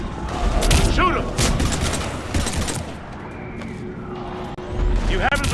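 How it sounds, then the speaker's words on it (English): Gunfire rattles through a Mass Effect 3 battle in dense, loud bursts, with booms mixed in, while voices call out over the fighting. "we're taking heavy fire"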